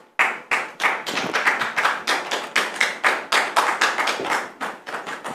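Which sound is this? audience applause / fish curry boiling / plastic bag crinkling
audience applause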